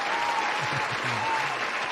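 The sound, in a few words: applause for Juan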